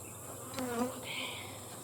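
Honeybees buzz around an open hive, a dense continuous hum with individual bees droning close by and passing, steady throughout.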